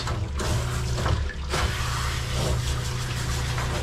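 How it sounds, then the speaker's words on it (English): Running water rinses a Havanese dog during a mobile grooming session, a steady close spray with a low hum of machinery beneath it, no voices. "now we're gonna rinse"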